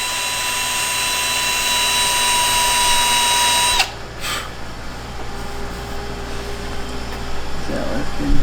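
Power tool spinning a sanding wheel against a jet ski part, a steady loud high whine for nearly four seconds that cuts off, followed by a quieter rumbling background.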